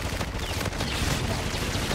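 Dense, continuous gunfire in the video game Infinite Warfare on the Scrap multiplayer map, rapid overlapping shots and explosive thuds filling the whole stretch with no pause.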